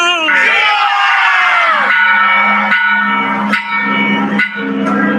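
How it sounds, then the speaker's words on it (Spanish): Church bells ring out over a loud, cheering crowd at a Mexican patriotic rally, with shouting and yelling that carry through the whole stretch and sharp bell strikes standing out above the noise. "sí sonaron las campanas por fin y no habían sonado en mucho tiempo"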